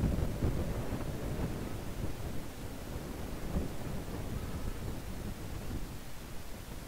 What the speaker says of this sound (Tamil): அப்படியே காற்று அடிக்கிறது சூப்பராக இருக்கு